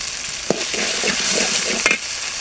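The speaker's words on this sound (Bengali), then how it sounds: "আমার মশলাটা কষানো হয়েছে" Ginger-garlic masala sautéing in a hot pan, giving a loud, dense sizzle throughout, with two sharp spoon scrapes against the pan and no speech.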